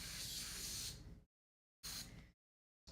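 An airbrush blasts cleaning fluid during a quick clean, loosening gunk from behind the nozzle: loud, close hissing spray bursts, one long burst followed by a shorter one and the start of a third, broken by total silence.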